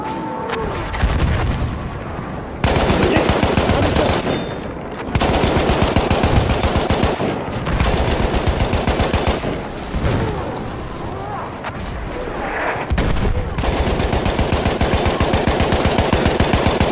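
Machine gun fire in Battlefield 1 on the Fire and Ice operation comes in long loud bursts separated by brief pauses, with a voice calling out in between.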